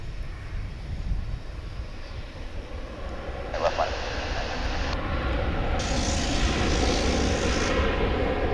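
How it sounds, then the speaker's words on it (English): An Airbus A321 jet airliner at Dallas/Fort Worth International Airport gives a steady, broad engine roar that builds gradually, heard from a distance with a voice talking over it. "an A321 bound for the city by the bay, San Francisco, with the Dallas skyline behind it"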